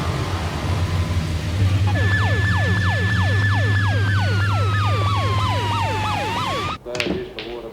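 An ambulance siren wails in repeated rising-falling sweeps, loud and close, over a steady low engine rumble, then cuts off with a thump.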